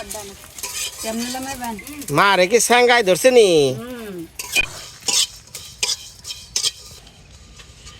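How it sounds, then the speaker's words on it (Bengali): Cumin seeds fry and are stirred in a pan in a home kitchen, with scraping and sizzling, first under people talking and then in clearer bursts alone. "জিরা দিয়ে ভাজছে"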